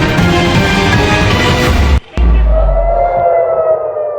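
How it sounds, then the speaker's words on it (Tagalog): Civil defense air raid sirens blare loudly across Tel Aviv, Israel, during Iranian missile attacks, a sustained wailing tone that breaks off abruptly and then resumes in a rising howl. "Muling umalingaw-ngaw ang mga sirena sa Tel Aviv,"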